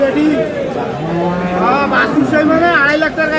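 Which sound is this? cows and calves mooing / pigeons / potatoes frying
cows and calves mooing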